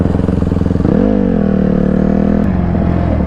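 A small off-road mini bike engine with no rear shock and a loose, flopping chain, running loud and close with a steady buzzing drone that rises in pitch as it revs, with rattling clatter underneath.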